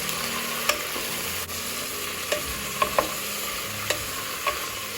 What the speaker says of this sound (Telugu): ఇప్పుడు మనము వాష్ చేసి పెట్టుకున్న చిక్కుడుకాయలు ఇందులో వేద్దాం. ఒకసారి అంతా కలుపుకొని